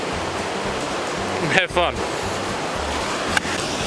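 Rushing water of the Silica Rapids waterfalls on snowy, foggy Mount Ruapehu, a dense, constant roar filling the scene, with a short spoken phrase partway through.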